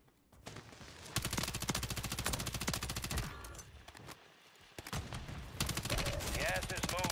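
Rapid automatic gunfire from an MP7 submachine gun in the Warzone 3 video game crackles in dense, sustained bursts with a brief lull midway, heard over a busy game mix.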